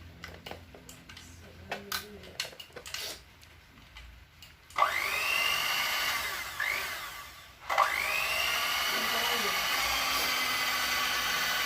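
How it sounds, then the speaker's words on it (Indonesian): An electric grinder whirs loudly as fish is ground for pempek Palembang fish cakes. The steady motor roar starts midway, briefly cuts out and then resumes, after quieter handling noises and some talk at the start. "Yang pertama ini tetap biasa ikannya kita giling ya."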